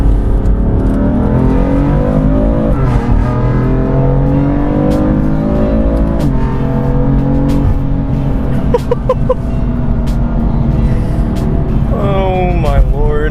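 A BMW F82 M4 sports car accelerates hard, its loud engine and exhaust climbing through repeated rising pulls with short breaks for gear changes and sharp revs toward the end, heard from close inside the car.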